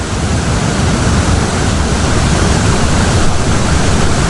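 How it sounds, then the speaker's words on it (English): The Buckle waterfall near Glencoe in Scotland, on a moonlit night, produces a steady, loud, dense rush of falling water that holds unbroken for several seconds with no voices. "waterfall in the moonlight."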